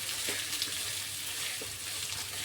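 Sprouted mung beans frying in a little oil in a pan, a continuous close hiss and sizzle with faint occasional stirring taps, no talking.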